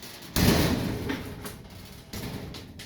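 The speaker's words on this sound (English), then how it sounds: "if I go inside the shed and close the door" A metal shed door swings closed with a sudden loud thud and rattle, and a second knock follows a moment later, heard close by from inside the shed with no speech.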